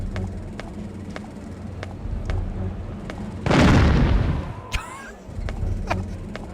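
A synthetic gunshot effect aimed at a yellow jacket: one loud, broad burst lasting about a second, followed by a short ringing tail, set against a steady background hum with faint periodic ticks.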